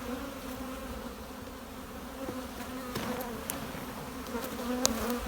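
Honey bees drone steadily around an open hive during a split, a dense, continuous hum near at hand with a few faint clicks and knocks of frames mixed in.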